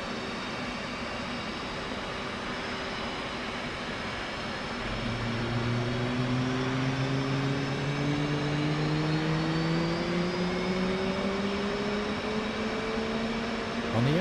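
An F/A-18C Hornet jet engine in the DCS flight simulator spools up during a cold start, its whine climbing steadily in pitch over a constant low mechanical drone.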